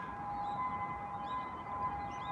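A distant ambulance siren in Tokyo wails steadily under a constant background hum, faint and far off.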